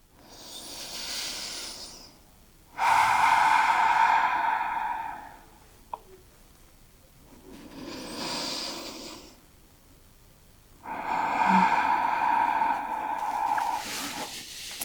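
Deep yoga breaths taken during a calm hip-focused session, alternating long inhales and exhales in a slow, even rhythm, close and breathy, with no talking over them.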